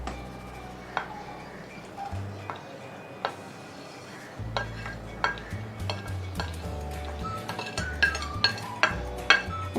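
Nuts, almonds, pistachios and cashews, along with ghee-sauteed vermicelli being added to simmering milk for sheer khurma, giving soft clinks and scattered ticks of spoon against pan over a low bubbling simmer.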